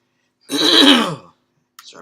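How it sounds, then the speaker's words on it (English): A single harsh throat clearing rasps up close, loud and lasting under a second, then a brief faint sound follows. "Sorry about clearing my throat"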